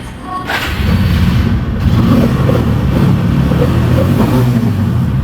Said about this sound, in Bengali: বাইকটা এখন বর্তমান স্টার্ট অবস্থা আছে আপনার সাউন্ড কোয়ালিটি শুনতে পাচ্ছেন